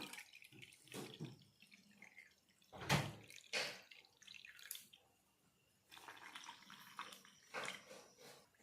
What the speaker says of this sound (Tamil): ஒன்றரை கப்பு தண்ணி ஊற்றி கலந்துக்கலாம்